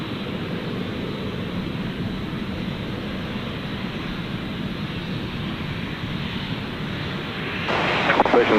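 Aircraft at Gold Coast Airport, a steady broad engine roar from a plane holding level throughout before swelling louder near the end, with a voice talking over it.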